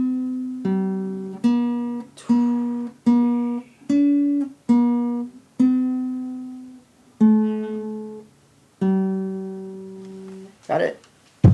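A clean guitar picks a melody, about ten separate notes each ringing and decaying in a slow, deliberate rhythm, near and moderately quiet, ending with a brief scrape.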